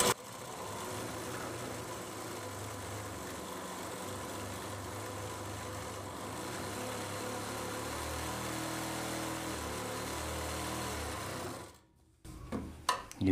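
A sewing machine stitches the border of a lehenga, a steady fast whirring hum running evenly for about twelve seconds before it stops, followed by a few faint handling clicks.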